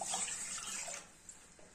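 Two cups of water poured into a pot for Kashmiri pink tea, a faint, brief splashing stream heard alone that tapers off after about a second.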